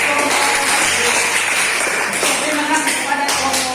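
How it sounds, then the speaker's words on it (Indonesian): A classroom audience of teachers applauds a presenting group after a problem-based learning presentation, with steady dense clapping filling the room at close range for a few seconds. "Berikan tepuk tangan buat kelompok."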